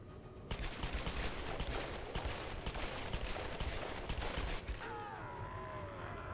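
Dual pistols firing in the Tomb Raider video game, a fast, steady run of fairly quiet shots over a low rumble, followed by a brief mechanical whine at the end.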